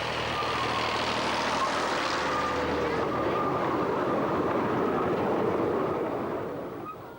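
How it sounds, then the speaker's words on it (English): Simplex diesel locomotive number 1 runs steadily on the line at the Midland Railway Centre near Swanwick, a continuous close engine drone with rail rumble that fades slightly at the end. "Simplex Loco number 1 heads back to the Swanwick terminus"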